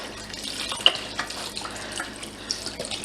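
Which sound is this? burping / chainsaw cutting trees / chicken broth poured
chicken broth poured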